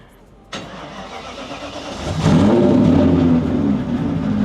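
Drift car engine cranking and firing up after a crank sensor repair, a sharp start followed by a rising rev that settles into a loud, rough idle, close by.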